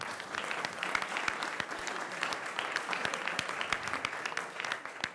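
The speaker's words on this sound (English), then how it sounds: "the applause that you're hearing" Steady applause from a community crowd at a public meeting about a second campus in Berkeley's Aquatic Park area, moderately distant, with sharp individual claps standing out in a continuous wash.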